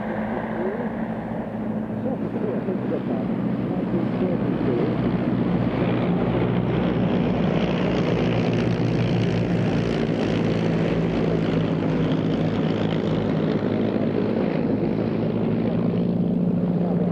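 A propeller aircraft with inverted, upside-down engines flies past at a British airshow, giving a loud, steady droning roar that holds for the whole stretch, rough with wind noise.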